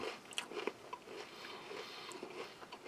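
Someone bites into a crunchy cracker served alongside a bean dish, giving a few quiet crisp crunches and soft chewing at close range with no talk.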